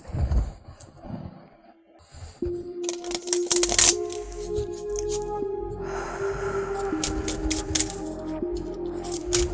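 Tarot cards being shuffled in rapid riffling, flicking bursts close to the listener, with a steady tonal hum running underneath.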